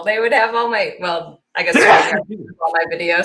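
A single sharp sneeze bursts out mid-conversation in a podcast interview, loud and close, with speech before and after it.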